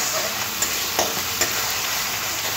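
A pan of banana flower mixed with salt and a pinch of turmeric is stirred steadily, with a constant close sizzle and a few sharper scrapes of the spoon against the pan.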